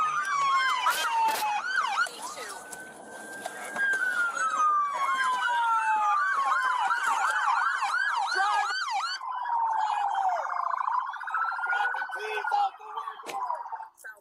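Several police sirens wail and yelp loudly and continuously on a highway near mile marker 42, overlapping tones sweeping up and down close by for the whole stretch.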